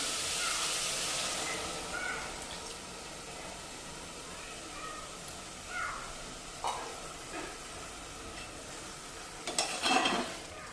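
Milk poured into grated bottle gourd halwa cooking in ghee in a kadai sets off a loud hissing sizzle that gradually settles, followed by scraping stirs and a few softer bursts of sizzling.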